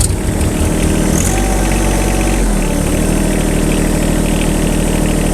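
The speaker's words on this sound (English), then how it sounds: "Come on, let's hear it. Rev it up." A 1979 Chevrolet, long abandoned, has its engine revved, a loud steady low rumble that climbs in pitch and holds there, then drops back to a rough idle. No one talks over it.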